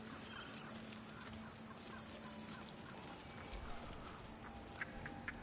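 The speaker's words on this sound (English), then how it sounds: "Do you hear them? The birds. They're beautiful." Birds in the fantasy role-playing game Baldur's Gate 3 chirp faintly and sporadically through a quiet, steady outdoor ambience, with a few brighter calls near the end.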